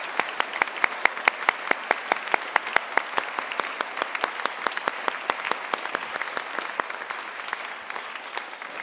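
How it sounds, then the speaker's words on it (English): Audience at a university institute lecture on the Constitution claps warmly after the introduction of the speakers, a fairly small crowd giving sharp, sustained applause that thins slightly toward the end. "Please, a warm applause for Professor Wehle and Professor Boom."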